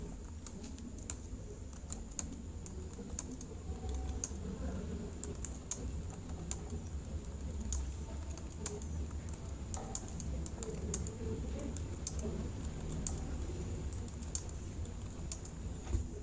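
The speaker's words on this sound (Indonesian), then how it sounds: "Kita ketik dulu secara manual di sini untuk stok yang keluar." Steady typing on a computer keyboard while entering outgoing stock figures into an Excel spreadsheet, a continuous run of light, quick key clicks at close range over a faint background hum.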